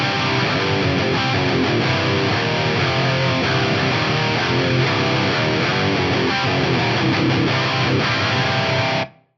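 A dense, heavily distorted electric guitar played through a high-gain JP2C+ amp model on a Fractal FM3, loud and saturated throughout before cutting off abruptly at the end.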